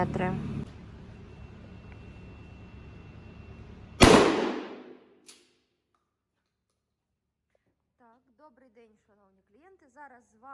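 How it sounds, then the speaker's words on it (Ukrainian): A single loud shotgun blast of birdshot at 20 metres cuts through a low hum and decays quickly, followed by near silence with faint distant voices. "Стріляти будемо з відстані 20 метрів дріб'ю"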